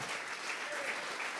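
Congregation in a church service clapping together as an offering, a brief, even wash of many hands applauding at moderate loudness with no break.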